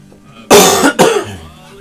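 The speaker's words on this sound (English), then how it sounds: "Sorry guys, I still have this cough." Two sharp, loud coughs in quick succession, close by, breaking an otherwise quiet moment.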